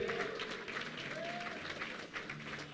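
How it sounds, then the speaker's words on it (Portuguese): Worshippers in a church applaud for Jesus during an evening service, a soft, steady patter of many hands clapping in a moderate, even wash with no speech over it. "Dê um aplauso para Ele."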